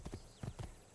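Horse hooves clip-clop in Assassin's Creed 2, set in Renaissance Italy, a few quick quiet hoofbeats in a short burst.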